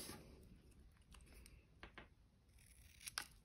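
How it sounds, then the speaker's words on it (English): Scissors snipping a small paper circle in half for a papercraft Easter project; a few quiet, close cuts come at irregular intervals, with the last cut slightly louder. "this one we are going to cut in half"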